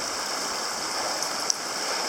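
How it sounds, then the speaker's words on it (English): Running water of a brook on the Roaring Brook Trail of Mt Greylock, a steady close rushing wash with no voices. "last time there was no running water like this"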